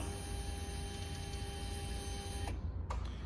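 On a Royal Enfield Classic 350, switching on the ignition powers an electric motor that whirs with a steady high-pitched tone over a hiss, cutting off abruptly near the end, followed by a brief click.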